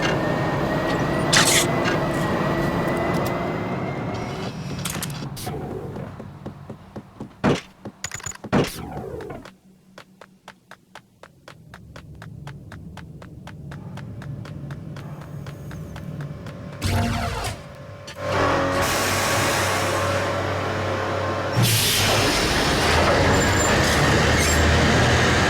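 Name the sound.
train running in Max Payne video game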